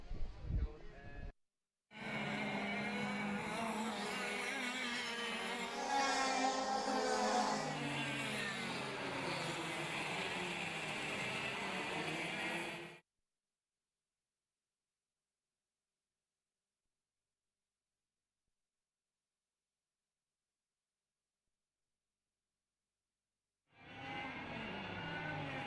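Go karts racing on a track in a club final: engines buzzing steadily and loud for about ten seconds, then silence, then the buzz returning at the end.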